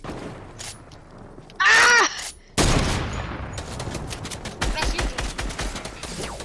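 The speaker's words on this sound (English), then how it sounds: "He's just shooting through all our stuff!" Gunfire in Fortnite tearing through built structures: sharp shots and bursts of rapid fire, with a loud blast, then a dense stretch of crackling shots and impacts at close range.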